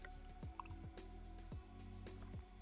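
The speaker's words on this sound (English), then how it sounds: "We're gonna sip on some water." Several close, wet sips of water at an even pace, each a short slurping swallow, with nothing else around them.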